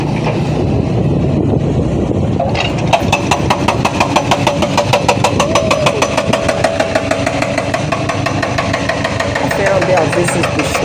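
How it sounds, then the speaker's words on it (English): A motorcycle rides along a rough, unfinished village road on Koh Rong island, Cambodia. Its engine drones loud and close with a fast, regular pulsing throb, and a faint voice sits underneath. "I am on a motorcycle and the driver is taking me to the village"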